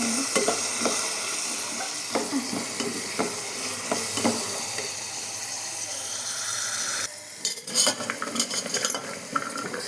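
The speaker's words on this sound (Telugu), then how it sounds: "క్యారెట్, బీన్స్ నూనెలో కాసేపు కొద్దిసేపు వేగాలి." Carrots and beans fry in hot oil for a vegetable biryani. A steady, dense sizzle runs throughout, with clinks and scrapes from stirring growing louder and busier toward the end.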